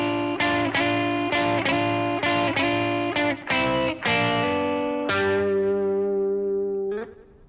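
An electric guitar plays a blues lick in double stops, a run of sharply picked two-note chords in steady succession that closes on a sustained ringing pair of notes, with no talking.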